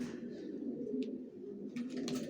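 Janssen line racing pigeons coo softly inside a loft, a low, steady murmur of overlapping coos with a few faint higher chirps near the end.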